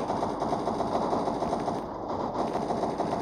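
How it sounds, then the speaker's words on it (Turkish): Rapid automatic gunfire from the zombie-hunting shooter game Unkilled fills the clip with a dense, continuous, loud rattle that barely lets up. "50 kere sıkıyor bir adamı öldüremiyor."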